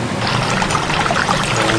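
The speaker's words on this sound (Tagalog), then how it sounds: "Ito yung timba natin guys. Lalagyan natin ng tubig." Water splashes steadily into a bucket at a McDonald's restroom, a continuous close, fairly loud trickling pour with no talk over it.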